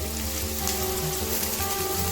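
Drained potatoes are tipped into hot oil with black cumin and dried red chillies and fry in a close, dense, steady sizzle like heavy rain, with no voices.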